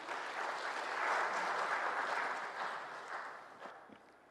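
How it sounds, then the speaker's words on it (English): A crowd applauding, a broad wash of clapping that swells and then gradually fades away. "Please, a round of applause to him."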